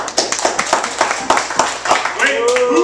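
Studio audience at a live telethon comedy show claps in a quick steady rhythm, close and fairly loud. A voice breaks in near the end over the last claps.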